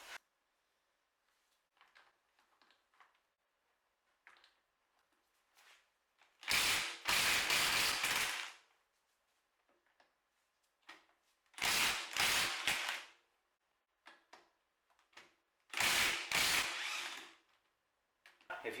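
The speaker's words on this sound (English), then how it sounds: "So I'm going to have to use this now to undo these wheel nuts." Three loud bursts of ratcheting wrench work on a Porsche 911 Carrera S's wheel nuts, each lasting about two seconds, separated by faint clicks and handling noises in an otherwise quiet space.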